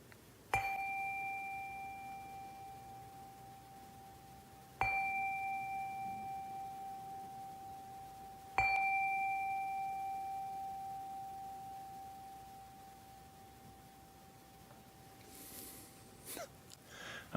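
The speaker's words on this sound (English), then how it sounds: "Let's prepare our hearts for this hour together with the ringing of the chime." Three clear chime strikes, evenly spaced, each ringing out and slowly fading in a quiet room at a Unitarian Universalist Sunday service, followed by faint rustling.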